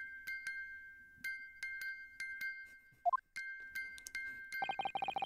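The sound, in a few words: music box being wound and chiming, from video game The Great Ace Attorney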